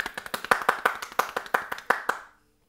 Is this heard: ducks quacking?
no